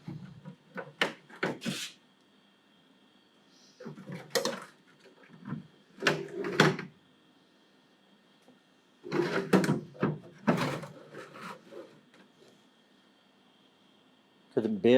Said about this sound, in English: All the drawers all work.